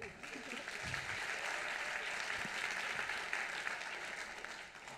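An audience at an awards ceremony claps steadily for several seconds, moderately loud and even, the applause continuing without a break.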